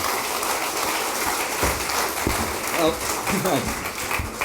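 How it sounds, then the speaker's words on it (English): An audience applauds a speaker being welcomed for a digital art talk, a broad continuous rush of clapping, loud and close, with a voice talking over it toward the end. "please give a big round of applause for Frank Vogt"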